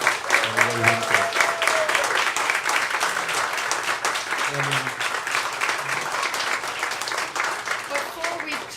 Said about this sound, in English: one more big round of applause for our fantastic guests doing so much great work, Senator Graciela Guzman and Rey Wences.